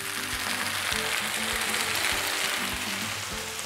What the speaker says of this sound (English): Yes, that sizzle.